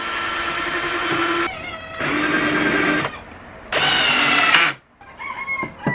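A power drill drives screws into a wooden quail cage frame in three loud whirring bursts of about a second each, separated by short pauses, close and with no talking.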